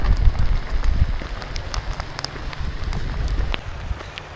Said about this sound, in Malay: tapi sekarang baru pukul 1 hujan